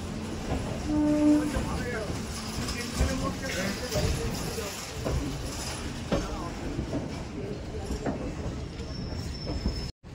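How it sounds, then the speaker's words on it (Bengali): Train pulling out of Sealdah station in Kolkata, a steady rumble and rattle of rolling carriages with a brief horn-like tone early on and voices murmuring in the background. "আমাদের ট্রেন ছেড়ে দিল শিয়ালদা স্টেশন।"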